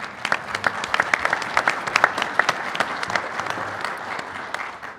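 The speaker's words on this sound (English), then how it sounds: "While we were applauding, just one more round of applause for Tim on his retirement." An audience at a panel session applauds a retiring editor, a sustained round of dense clapping from a crowded room, fairly close and continuous, fading slightly at the end.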